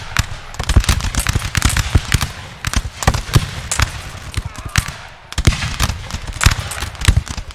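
Musket volleys in a Napoleon Total War multiplayer battle, a dense rapid crackle of overlapping gunshots that bursts in waves, loud and close with sharper cracks standing out, under a voice talking over the gunfire.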